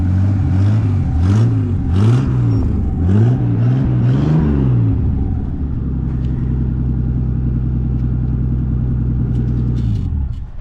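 A Chevrolet Nova's engine revs repeatedly and loudly close by, each rise and fall in pitch coming in quick succession before settling into a steady idling rumble.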